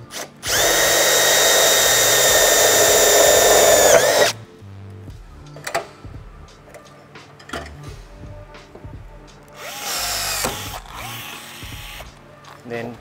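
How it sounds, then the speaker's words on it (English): A power drill whines loudly for about four seconds drilling through a hole while installing a table on a Toyota 78 Troopy, then clicks and handling noises follow before a second, shorter burst of drilling. "now, we're gonna drill through that hole there"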